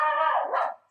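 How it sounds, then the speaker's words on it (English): A single dog gives a short, sharp bark indoors, close and clear, then falls silent. "That's my dog going off."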